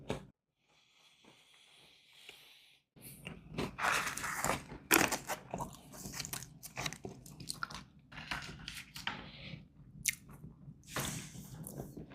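MRE crackers from a 2021 US military ration are bitten and chewed up close, a burst of dry crunching and crumbly mastication after a quiet pause, with no talking.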